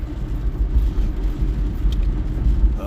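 A car drives through rain, giving a steady close rumble of engine and road noise with a broad wash of hiss and no distinct events.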